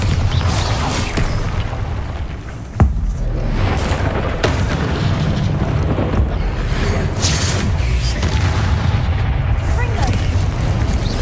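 Spell blasts and combat in Hogwarts Legacy: a dense, loud, continuous roar of magical impacts with a sharp explosive crack partway through, and a character shouting over the din.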